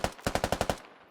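A burst of rapid automatic gunfire in the video game Operation: Crazy Horse, about seven loud evenly spaced shots that stop abruptly and leave a brief fading tail.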